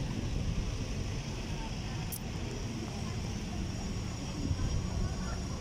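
Steady outdoor wind buffets the microphone near a cathedral church in Albay, a constant low rumble throughout, with a brief faint high tick partway through.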